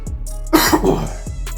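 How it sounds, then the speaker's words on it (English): A single harsh cough up close, with a throaty, congested rasp, loud and abrupt against a quiet room. "get used to the coughing"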